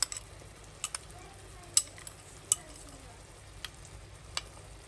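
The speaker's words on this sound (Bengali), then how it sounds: "এখন সবগুলো একসাথে মিক্সড করে একটা গ্রেভি বানাবো" A spoon mixing a buttery gravy for lemon-pepper baked fish fillets: scattered light clinks and taps of the utensil against the container at an uneven pace, soft and close, with no talk.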